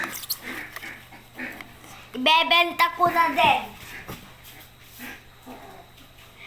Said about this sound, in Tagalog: Bebenta ko na din pati itong tuta ko.